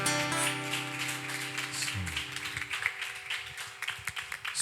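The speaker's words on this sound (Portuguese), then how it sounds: "As palmas louvam o Senhor" A church congregation at a youth worship service claps in praise, a soft patter of hands under a lingering sustained organ or keyboard tone that fades partway through.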